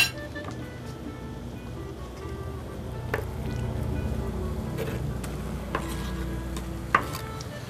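Chicken meat browning lightly in a pan, a steady low sizzle with occasional clinks and scrapes of a utensil, heard close and fairly quiet with no talk.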